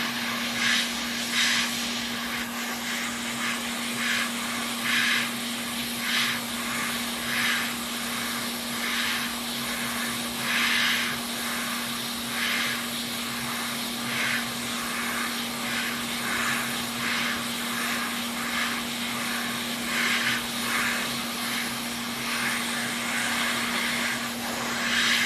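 Hot air rework station blowing steadily while heating the HDMI port on a PS5 board, a continuous airy hiss with a low hum, close and even throughout, with no talking.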